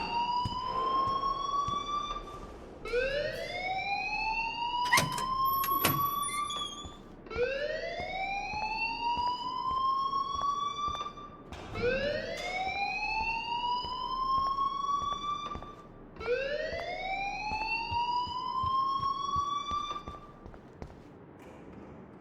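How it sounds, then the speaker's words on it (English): An alarm in the Life is Strange video game wails in repeated rising siren sweeps, about five cycles evenly spaced, loud and sustained, with brief sharp clanks between some sweeps. "please turn off that alarm since that's your job"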